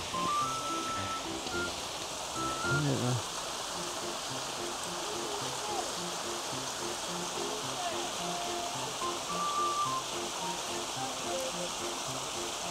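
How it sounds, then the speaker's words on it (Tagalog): Strong stream water rushing through Fairy Glen on the Isle of Man, a steady broadband roar that runs the whole length, with people talking over it now and then. "Malakas pa rin ang tubig guys."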